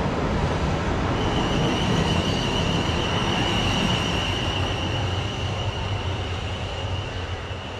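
A train rumbles past steadily at close range at Bentley station, Hampshire, a broad continuous roar of wheels on rails with a faint high squeal running through it.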